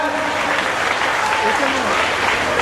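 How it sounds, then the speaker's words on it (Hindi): Audience applause welcoming a musician at a devotional Gau Katha gathering, a dense, steady wash of clapping filling the whole stretch at even loudness, with faint voices mixed underneath. "तालियों से स्वागत"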